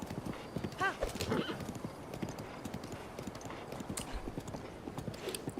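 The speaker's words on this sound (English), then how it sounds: "I cannot with this horse." A horse in Zelda: Breath of the Wild gallops with steady clip-clopping hooves and gives a brief whinny, moderately loud with a busy game backdrop and no talk.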